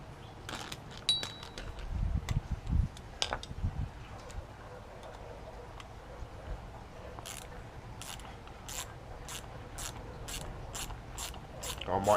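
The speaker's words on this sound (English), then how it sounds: "So now we've got to take the clutch carrier off" Metal parts click and ratchet while the clutch carrier is worked off an OBR 30.5cc engine, first with clunky handling knocks, then a steady run of evenly spaced sharp ticks close up, no speech.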